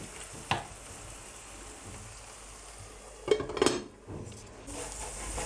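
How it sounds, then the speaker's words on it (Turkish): Potatoes fry in a pan, giving a low, steady sizzle throughout, broken by a few clattering knocks of a utensil against the pan partway through. "Patatesler yumuşayıp güzelce kızardı."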